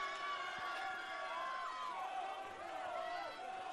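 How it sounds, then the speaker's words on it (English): Field hockey fans cheer and murmur in the stands, a steady crowd noise under a commentator's continuous talk. "The fans are cheering"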